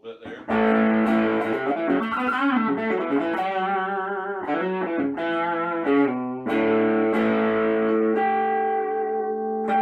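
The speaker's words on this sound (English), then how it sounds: "Roll the tone off a little bit there." Electric guitar on a Partscaster with the tone knob rolled back, played as sustained chords and single notes through effects with slight distortion and reverb, loud and alone with no talking.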